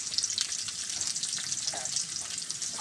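Bay leaves, cinnamon, small and large cardamom, chopped onion and green chili frying in hot oil, a dense, continuous close sizzle with light crackle and stirring throughout.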